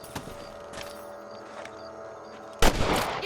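Rifle shots aimed at rabbits in Red Dead Redemption on PS3: a few faint cracks over an outdoor musical drone, then one loud, close shot near the end.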